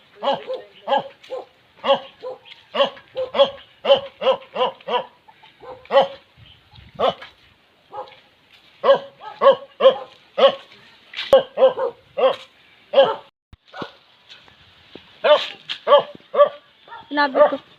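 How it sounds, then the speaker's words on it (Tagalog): A dog barks repeatedly in rapid bursts, loud and close, with short pauses between volleys across the whole stretch, by the seaside. "may aso"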